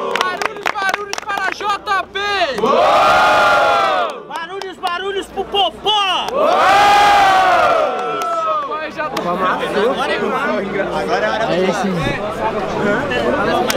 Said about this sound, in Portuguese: E aí, barulhos, barulhos pro Hero